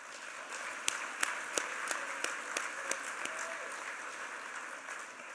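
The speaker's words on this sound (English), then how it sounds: "So Bob, if you could stand up so we can give you a round of applause." Applause from a large audience at a construction industry association banquet speech, a continuous, even roar of many hands with a few sharper slaps sticking out, sustained from start to end at a moderate distance.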